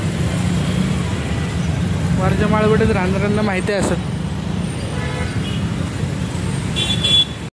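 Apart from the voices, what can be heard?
continuous road traffic with honking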